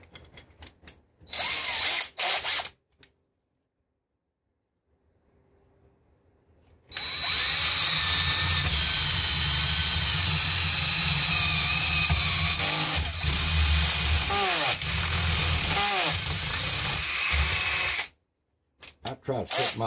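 A power drill bores holes through wood, with a few short bursts and then a long steady whine that rises and dips as the bit cuts, stopping before a couple of brief final spins.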